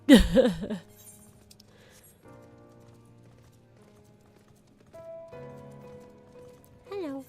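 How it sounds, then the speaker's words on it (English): Rhythmic horse hoof clip-clop from Final Fantasy XIV, loud at the start then fading under music and faint chatter, with a brief horse whinny near the end. "I love that they make the horse's feet, like the hoofs, clop."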